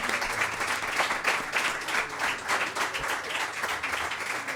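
An audience claps steadily and fairly densely through an acoustic folk concert, sustained applause filling the space without a break and no voice speaking over it.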